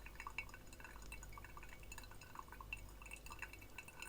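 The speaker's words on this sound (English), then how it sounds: "And now we'll go back to more gentle pouring," Water poured gently over ground coffee in a V60 brewer, a soft trickle with light dripping and faint glassy ticks, quiet and steady for a few seconds.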